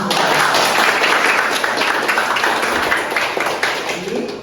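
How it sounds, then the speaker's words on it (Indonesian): A university class applauds a student after his explanation, a burst of dense clapping that fades gradually toward the end. "Tepuk tangan."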